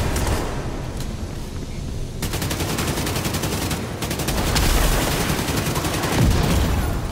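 Sustained rapid gunfire during a firefight in the video game The Division 2, Iron Horse raid; dense, continuous bursts of shots, loud and close, building in intensity with no clear pauses.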